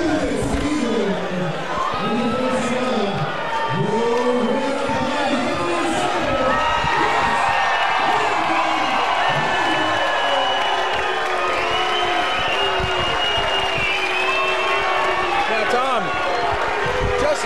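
Fight crowd reacting to a result announcement at RITC 81, a loud sustained roar of cheers, shouts and whoops from a large audience, with voices calling out throughout.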